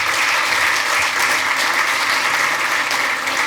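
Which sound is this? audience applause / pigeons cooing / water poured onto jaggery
audience applause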